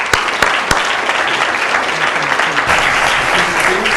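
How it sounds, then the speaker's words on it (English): Audience at a city council meeting breaks into steady, sustained applause, a dense wash of clapping that carries on evenly, with a few sharper claps standing out near the start. "Join me in giving them a round of applause one more time."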